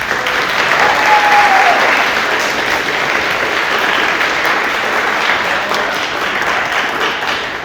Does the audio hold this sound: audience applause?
yes